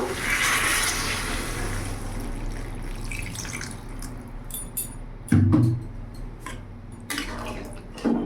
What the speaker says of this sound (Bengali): এর মধ্যে এখন আমি জল দিয়ে দেবো